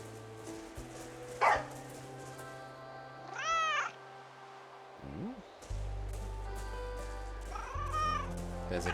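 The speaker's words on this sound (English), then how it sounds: "There's a kitty cat hiding in the woods." A cat meowing in the video game Broken Roads, two or three clear rising-and-falling meows spaced apart over a droning ambient hum and other game sounds, with no talk over them.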